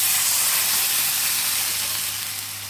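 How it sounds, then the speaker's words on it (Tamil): Hot pan of fried cumin and spices hisses steadily as mixed buttermilk is poured in on a simmering stove, a loud close sizzle that slowly eases over a few seconds. "இந்த டைமில் ஸ்டவ்வை சிம்மில் வச்சுட்டு இந்த கலக்கி வச்சுருக்க மோரை அதில் கொட்டிடுவோம்"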